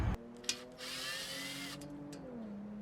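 A power drill backs screws out of a metal bracket on a patio chair fabric rod with a quiet, steady whirring run of about two seconds, starting after a brief click.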